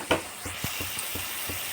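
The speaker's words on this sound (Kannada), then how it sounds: "ಒಗ್ಗರಣೆಗೆ ಹಾಕಿರೋಂಥ ಎಣ್ಣೆ ನಿಧಾನಕ್ಕೆ ಮೇಲೆ ಬರ್ತಾಯಿದೆ." Tempering oil sizzling in a pan for okra gojju, a steady close hiss broken by a few soft stirring taps.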